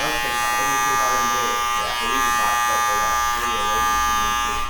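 Electric clipper fitted with a fine-toothed comb trimming a man's beard during a haircut, a steady close-up buzz with a high tonal whine running throughout, while people talk over it.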